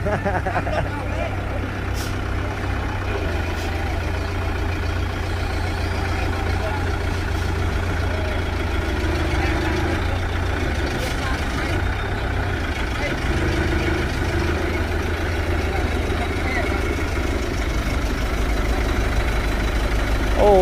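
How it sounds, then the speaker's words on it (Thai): A heavy truck engine idles with a steady low rumble throughout, while voices talk over it. "ไม่เร่งเครื่องเลยครับ ขับแบบเดินเบาเลยครับ"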